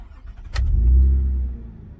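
A Toyota Camry engine cranks with a short sharp catch, then settles into a loud, deep, steady idle rumble that swells and slowly eases, close by with no talking.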